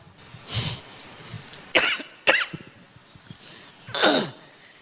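Several close coughs in a row, some sharp and hacking, with a throaty one at the end and quiet breathing between them.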